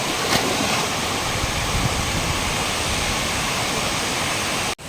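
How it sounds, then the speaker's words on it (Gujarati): River water rushes forcefully at a bathing spot, a steady, dense roar that holds at one level for nearly five seconds before cutting off abruptly. "અત્યારે પાણી પણ જાય છે જોમ ને"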